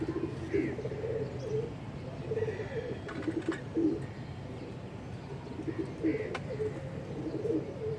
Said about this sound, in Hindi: जंगली कबूतर आया साथ ही आके उसके बैठ गए